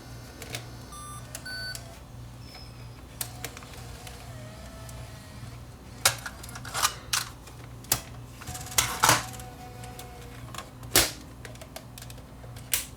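Sony DCR-TRV130 camcorder ejecting its tape cassette: clicks, a few beeps and sharp mechanical clunks of the cassette door and transport, close up over a quiet room hum, with no one talking.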